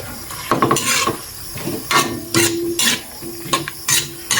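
Egg is stirred in a frying pan, with a utensil scraping and clinking against the metal in quick, irregular bursts over a light sizzle, close and fairly loud.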